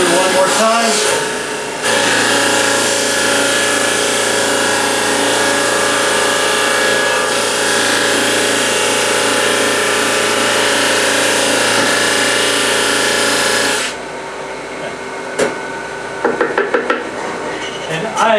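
A Delta X5 18-inch drum sander grinds steadily as a wooden board feeds through, a loud, even roar holding for about twelve seconds before cutting off, with a few light knocks after it.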